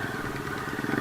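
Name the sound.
motorcycles of other off-road bikers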